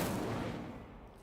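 An Incendio fire spell cast in the video game Hogwarts Legacy, a single loud whooshing burst of flame that fades over about a second.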